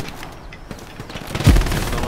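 Machine gun fire in the Hell Let Loose video game rattles in a short burst amid battlefield noise, with a heavy thump and lingering rumble near the end.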